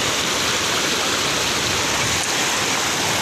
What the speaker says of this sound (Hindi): नीचे नदी की साइड से आवाज़ आ रही है, पानी की आवाज़ आ रही है